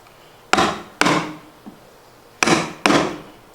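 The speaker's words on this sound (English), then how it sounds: "I would take my chisel and I will make a pretty steep V right here down to that baseline" Sharp mallet strikes drive a chisel into timber while cutting a steep V notch for a timber-frame stair landing, four loud close blows with ringing decay, plus one faint tap between them.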